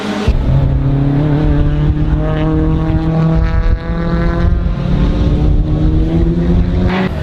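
Race car engines at Morgan Park Raceway in Warwick drone loudly and steadily, a sustained buzzing engine note with slowly rising and shifting pitch as a car holds speed, with no talking.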